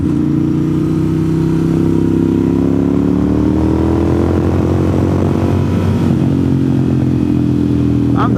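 A motorcycle rides along US28 west of Franklin, North Carolina, its engine a steady, loud drone with layered harmonics and slight pitch shifts, heard close with continuous wind rush and no voices.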